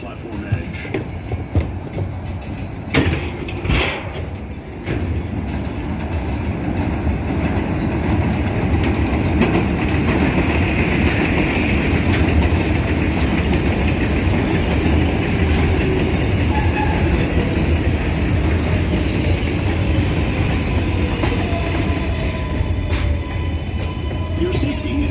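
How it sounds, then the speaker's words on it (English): An R188 7 local train on the New York City Subway pulls into 90th St Elmhurst station on the elevated line, a loud steady rumble of wheels and clatter running throughout, with a recorded announcement heard over it. "This is a Flushing Main Street bound 7 local train."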